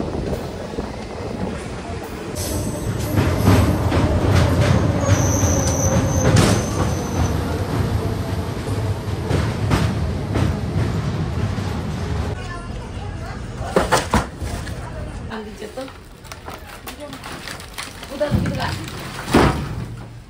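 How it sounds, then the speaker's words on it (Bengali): A DEMU local train rolls through Sevoke forest, a steady rumble under a voice speaking, with wind buffeting and a few sharp knocks near the end. "ট্রেন আমাদের প্রবেশ করলো সেবক ফরেস্টের মধ্যে।"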